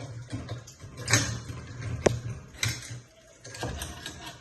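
A rifle charging handle is pulled and the bolt pushed back, giving a few sharp metallic clicks and sliding clacks spaced apart, close and fairly quiet.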